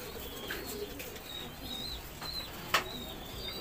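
Pigeons coo softly inside a pigeon loft, with low murmuring calls, faint chirps and a brief flutter or knock, all fairly close amid a quiet room background.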